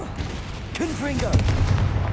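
Confringo blasting spells burst in the Hogwarts Legacy video game, sharp booming hits and crackling impacts over a steady low rumble of game music and ambience, with a voice speaking briefly partway through.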